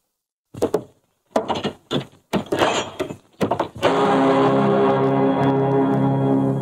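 A wooden door in a 1944 Hindi film is knocked and handled with several separate thumps and clunks, then swings open into a sustained, steady hum of background noise.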